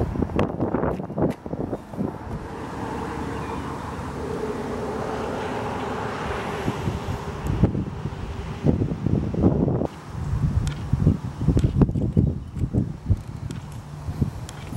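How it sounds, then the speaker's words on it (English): Gusty wind outdoors by a lake during a bass fishing trip, steady rushing and microphone buffeting, with scattered clunks and handling noises throughout. "Yeah, that wind's gonna be a pain."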